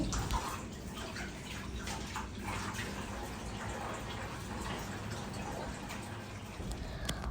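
Water running and splashing as a dusty old household object is washed by hand, a steady faint rush with small drips and splashes throughout.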